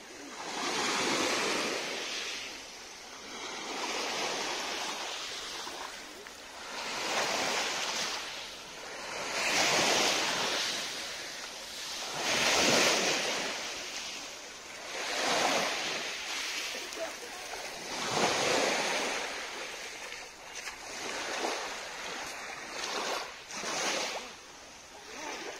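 Repeated Adriatic waves surge and wash onto the beach at Kamenovo, Montenegro, in slow swells every few seconds, with wind buffeting the microphone throughout.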